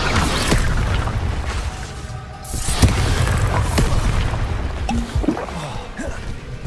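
Confringo blasting spells detonate in Hogwarts Legacy, heavy booming explosions with rumbling low impacts and sharp bursts following one another over several seconds of game combat.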